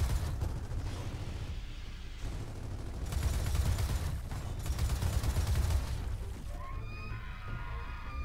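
Sustained gunfire and explosions in the Gears of War 4 video game, a dense continuous rumble of shots and blasts that fades toward the end, with no talk.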